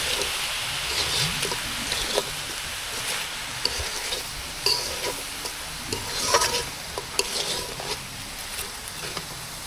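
Bay leaves and four or five split cardamom pods hit hot fat in a pan and give a steady sizzle, broken by small crackles and stirring scrapes, with no one speaking.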